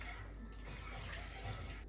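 Six cups of water pour into a pot of salted tallow, a soft, steady splashing and trickling nearby with no talking.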